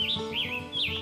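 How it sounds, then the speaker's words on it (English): A scarlet tanager sings in a woodland, three clear slurred whistled phrases rising and falling in quick succession, moderately close and alone. "The scarlet tanager,"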